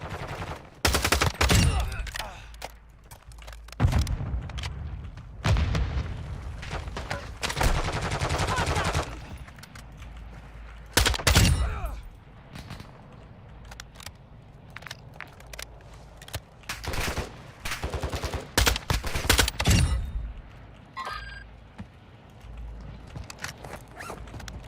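Video-game gunfire shooting through windows: bursts of automatic fire and single sharp shots crack loud and close in uneven clusters, with quieter gaps between volleys and faint background movement.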